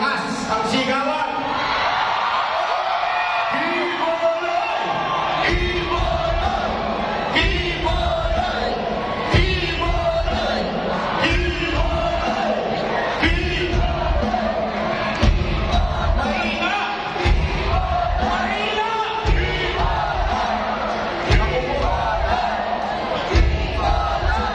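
A large crowd at a PDP-Laban proclamation rally shouts and roars in repeated loud surges, with a speaker's amplified voice calling out between the swells of cheering.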